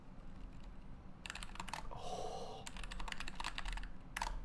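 Typing on an Epomaker NT68 low-profile mechanical keyboard gives close, quick bursts of light clacking keystrokes, broken by a short pause in the middle before more rapid typing resumes.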